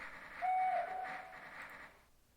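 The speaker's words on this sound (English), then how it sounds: "This train I'm going to turn around at the signal box." A train in the OpenTTD railway game sounds a faint, brief whistle over a low rolling rumble, which fades out after about two seconds.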